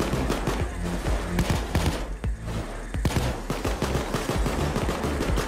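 Gunfire during a nightclub heist in Payday 2, dense bursts of rapid automatic shots and sharp single cracks overlapping continuously, loud and chaotic throughout.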